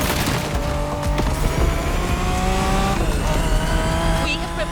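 A BMW Z4 M40i convertible from a famous German brand drives along a backcountry road in The Crew Motorfest, its engine a steady, close drone with shifting tones and a brief tire squeal.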